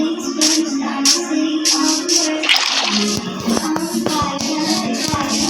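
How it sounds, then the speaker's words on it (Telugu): Flowing water from an infinite water source in the Minecraft video game, a loud continuous watery rush with some splashy, rattling texture throughout. "ఇన్ఫినిట్ వాటర్ సోర్స్ అయితే ఇక్కడ ఉంది గైస్."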